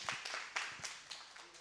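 A small group clapping at a youth worship service to congratulate the third-place team: a few scattered, quiet claps heard fairly close, sparse and brief rather than full applause.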